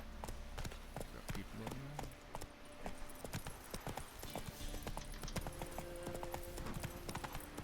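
A horse named Roach trots in a video game, its hooves clopping in a quick, steady rhythm at low volume beneath casual conversation.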